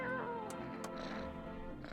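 A pet cat meows a few times close by, with plaintive drawn-out calls over a quiet room background and no speech.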